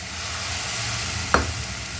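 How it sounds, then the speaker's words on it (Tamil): Tamarind-based curry frying in a pan on the stove, a steady sizzle throughout with a single sharp scrape of a spoon stirring near the middle. "இப்போ இதை நல்லா கிளறிடலாம்"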